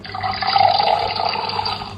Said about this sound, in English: To pour, you make something like water flow.